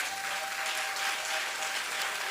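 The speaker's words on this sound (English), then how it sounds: "Please give him a round of applause." Steady, dense applause from an audience honouring the mayor at a civic gathering, even and unbroken throughout with a faint tonal hum beneath.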